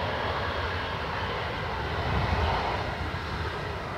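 A Ryanair jet airliner at Dublin Airport produces a steady, moderately loud engine rumble that swells slightly midway before holding even.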